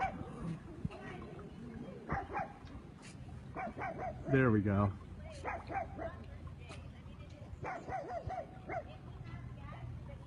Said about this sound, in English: but you can hear a lot of barking.